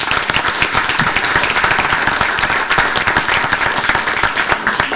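A room full of people at a Prince George's County quality-of-life report event gives a loud, sustained round of applause, the crisp clapping thick and continuous throughout, with no talking.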